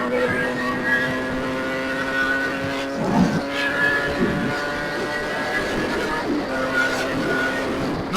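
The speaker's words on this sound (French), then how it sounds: "À 30 km/h, on lâche les gaz." Sherco motorcycle engine running at about 30 km/h in town as the throttle is released, a steady harmonic drone easing off with small engine blips, loud and close throughout.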